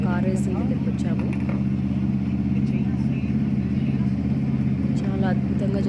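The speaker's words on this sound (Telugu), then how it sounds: "ఈరోజు ఈ వీడియోలో car racing first time in హైదరాబాద్లో జరుగుతున్నాయి." A car racing event at Tank Bund in Hyderabad, with a steady droning engine roar from the race cars that runs continuously under constant loud talking.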